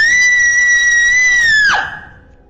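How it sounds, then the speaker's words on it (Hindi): A cartoon woman's high, sustained scream, loud and steady for about a second and a half before breaking off and fading, with no talk over it. "और जोर से चीखने लगी।"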